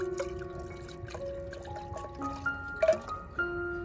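Tito's vodka pours into a cup of ginger ale, a faint liquid trickle with drips and ringing tones against a quiet background, no speech.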